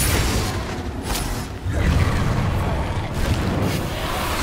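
Booming blasts of the Confringo explosive spell in Hogwarts Legacy during a fight with creatures, dense rumbling bursts layered with game effects and a player's voice, loud and continuous.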